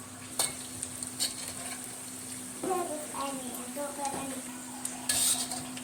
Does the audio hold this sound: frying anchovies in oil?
yes